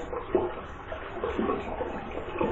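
Cool water is splashed onto a freshly shaved face, making irregular close-up sloshes and splashes against a running-water background, with no speech.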